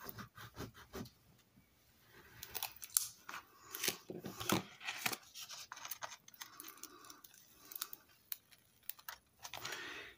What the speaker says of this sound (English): We're going to go ahead and burnish this down really well.